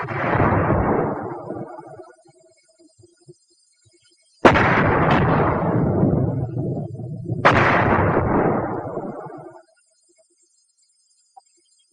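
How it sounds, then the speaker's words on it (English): Three mortar shells explode on a World War II battlefield, each a sharp, loud blast that rolls off into a long rumbling decay, with quiet gaps between them. "Of course, an exploding mortar shell can kill."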